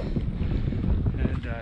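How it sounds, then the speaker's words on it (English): Strong cold wind buffets the microphone on a mountain gap along the Appalachian Trail, a steady low roaring rumble that stays loud and close throughout the brief moment. "It is windy and cold"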